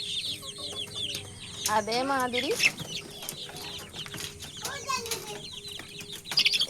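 Chickens clucking and squawking at close range in irregular bursts, with a few louder calls rising above the flock and a brief wing flap, while someone talks over them.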